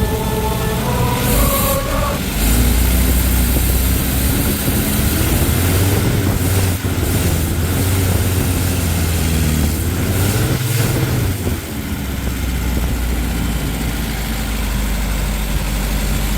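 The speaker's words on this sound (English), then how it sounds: "It started up and it was idling nice" An old car engine idles steadily with a low, rumbling tone, close and continuous, with a brief change in pitch partway through and no talking.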